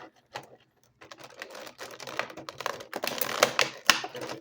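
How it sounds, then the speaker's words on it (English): Elastic bands snipped off collectible figure packaging during an unboxing, heard as a run of small crisp clicks and plastic rustles, close and fairly quiet, with no speech. "So let me pop this open. Snip off the elastics."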